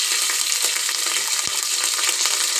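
Onions, green chillies and curry leaves sauté in a little oil for chicken keema kulambu, a loud, continuous close-up sizzle and crackle with a brief stir or tap of the spoon midway.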